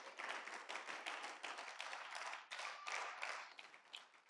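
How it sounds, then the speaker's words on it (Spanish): A church congregation applauds together in a dense, sustained wash of clapping that stays steady for several seconds, moderately distant and even. "Le da un fuerte aplauso al Señor."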